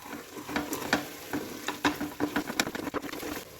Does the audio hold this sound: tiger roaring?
no